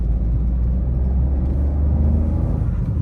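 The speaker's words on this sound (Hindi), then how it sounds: "गाड़ी रैव करने से ये आवाज़ आती है, ये सुनना। सेकंड गियर है" A 2025 Dzire's engine revs in second gear, a steady low rumble that swells slightly, heard close from inside the cabin with no one talking.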